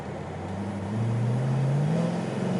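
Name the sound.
modified Chevy Caprice police car engine and exhaust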